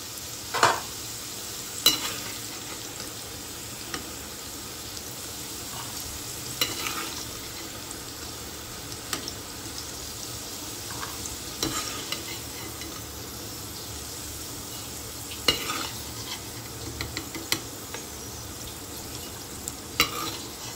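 Potatoes in a pan of frying oil give off a quiet, even hiss, broken by a few faint taps and scrapes as a spatula lifts them out.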